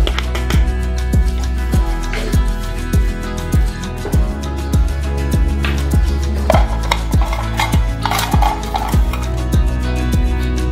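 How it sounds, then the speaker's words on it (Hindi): Egg and gram flour batter with chilli, turmeric and garam masala being stirred in a bowl, a steady run of repeated close scraping and knocking strokes, loud and rhythmic with no talk. "इसको अच्छे तरीके से मिक्स कर लेते हैं।"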